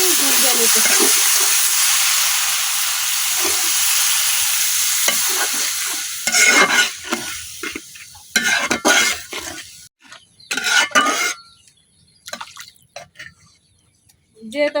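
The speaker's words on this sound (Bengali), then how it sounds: "আমার মশলাটা কিন্তু কষানো হয়ে গেছে একদম উপর থেকে তেল ছেড়ে দিচ্ছে" Masala spices sauté in oil in a pan for a village-style fish curry with onion. A loud, continuous sizzle comes first, then breaks into bursts of stirring and scraping with frying hiss between them.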